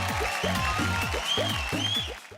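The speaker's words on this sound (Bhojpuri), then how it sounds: "जोरदार तालियां हो जाए इस तूफानी परफॉर्मेंस के लिए।" Audience applause at the IBFA Dubai 2026 Bhojpuri film award show after a stage performance, a broad wash of clapping and crowd noise layered over loud, rhythmic stage music throughout.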